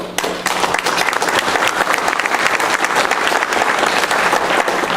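Loud, sustained applause from an audience at an awards luncheon fills the room with dense, even clapping from start to finish after a brief pause.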